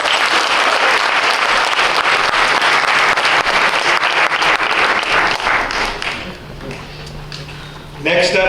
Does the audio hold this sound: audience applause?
yes